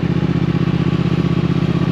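A Triumph Thruxton 1200R motorcycle engine runs steadily up close, a loud, even throbbing pulse with a rapid regular beat and no voices.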